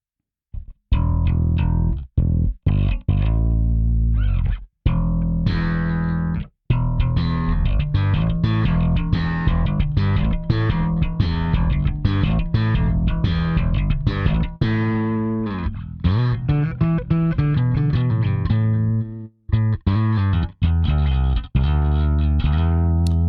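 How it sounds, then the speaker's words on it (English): Bass guitar played through a gritty overdrive from a Tech 21 DP3x preamp pedal, a run of punchy distorted notes and riffs with short pauses between phrases. "That kind of sounds like a classic Sans amp bass driver to me."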